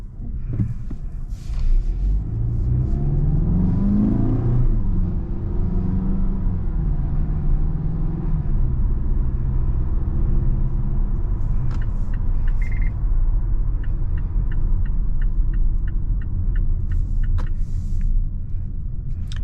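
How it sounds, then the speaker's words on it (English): A 2022 Mazda CX-5 on a test drive gives a continuous low engine and road rumble heard from inside the cabin, with faint clicks and ticks over it and no talking. "Engine is nice and torquey"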